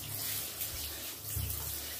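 Water pours steadily from a tap into a bathtub for a dog's bath, a continuous hissing splash that stays faint and even throughout without any voices.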